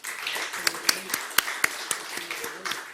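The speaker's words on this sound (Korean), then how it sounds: "함께 인사할 때 여러분 크게 박수로 환영 격려해 주시기를 바랍니다." Scattered handclaps from the congregation at a church denomination's New Year assembly welcoming guests; sharp, distinct claps ring out over a faint roomy background, thin and uneven rather than a full ovation.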